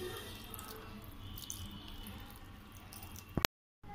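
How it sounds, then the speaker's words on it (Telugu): Cold water poured over rinsed vermicelli in a strainer, a steady faint trickling and draining spatter, close, ending abruptly in silence. "ఇప్పుడు దీనిపైన చన్నీళ్ళు పోస్తే సేమియా పొడి పొడిగా వస్తుంది."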